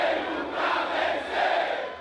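Corinthians supporters cheer together in a stadium, a broad, steady roar of crowd voices that swells and eases in waves, sustained throughout without distinct individual shouts.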